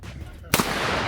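A handgun fires once at a gun range, a single sharp, loud crack followed by a lingering noisy decay.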